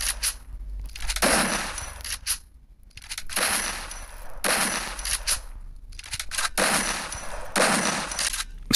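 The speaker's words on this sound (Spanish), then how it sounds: "Estos tiros están hechos sin recortes, observen bien." Bursts of rapid gunfire from a mobile shooter video game, four loud repeated volleys separated by short silent gaps, with no talking.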